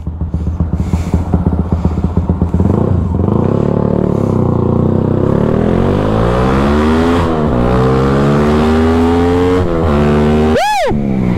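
A Yamaha Y15ZR motorcycle engine revs hard and close, a rapid idle patter giving way to a loud sustained roar that climbs and sweeps in pitch, with a brief sharp whine near the end.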